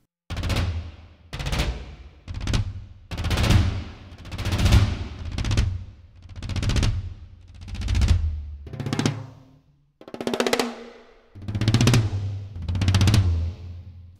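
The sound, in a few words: tom crescendo rolls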